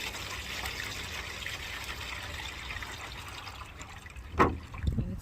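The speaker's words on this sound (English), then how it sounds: "I'm gonna go ahead and add this water that I got out of the garden" Rainwater collected from a garden is poured into a container, giving a soft, continuous trickle and wash that ends with a short, louder splash and a few clunks near the end.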